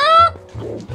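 A cucco chicken in Zelda: Twilight Princess lets out a short, loud honking squawk, followed by low clucking tones, close and clear.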